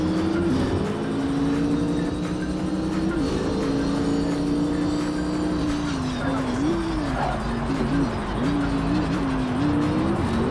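A Mercedes race car engine roars at Interlagos in Project Cars 3, holding a loud, continuous whine that rises and dips with gear changes and throttle, audible throughout without speech.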